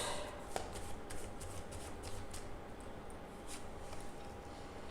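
Tarot cards are shuffled in a continuous run of quick, soft riffling flicks, close and fairly quiet, with no talking.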